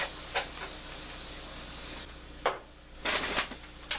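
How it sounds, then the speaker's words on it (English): Onions browning in a pan give a faint sizzle, with a few short scraping bursts as they are stirred around. "These onions are starting to get a little brown here. Gonna mix them around."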